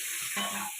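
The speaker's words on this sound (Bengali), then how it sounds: "একটু ভাজা ভাজা হতে থাক" Aubergine and potato pieces fry with cumin in oil in a pan, giving a close, steady sizzling hiss with a light stirring scrape partway through, and no voices.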